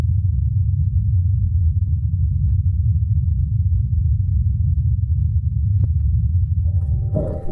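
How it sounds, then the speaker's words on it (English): The Ingenuity helicopter flying on Mars sounds like a continuous low, droning hum, steady and unbroken throughout, with a faint click or two near the end. "And this is a recording of the Ingenuity helicopter in flight."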